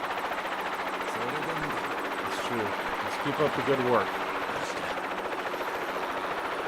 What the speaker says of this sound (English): that helicopter noise could stop now